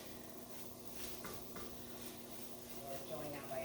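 Flour stirring in a hot pan to cook out the raw taste for biscuit gravy, a steady soft scraping and faint sizzle close by, continuous and unhurried with no one speaking.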